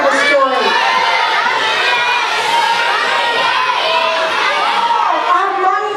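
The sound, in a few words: children shouting out animal guesses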